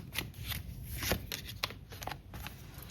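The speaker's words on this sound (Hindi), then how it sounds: "मैं यही शफल कर रही हूँ, आपके सामने करती हूँ." Tarot cards being shuffled by hand, a quick series of soft riffling flicks and slaps at close range, fairly quiet.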